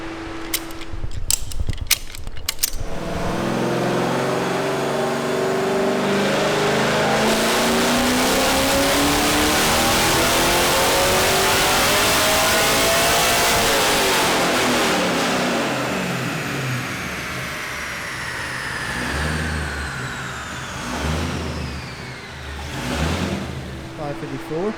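Custom exhaust on a Camaro revving hard: a few quick blips, then a long loud climb to a sustained high-rpm roar and a falling drop back to idle, with brief talk nearby.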